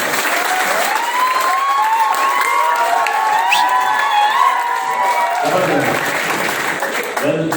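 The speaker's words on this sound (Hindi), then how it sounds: "सबके लिए एक बार जोरदार तालियां।" A crowd at a political leader's public gathering in Boisar, India, applauds steadily, with cheers and shouts rising over the clapping, which thins out toward the end.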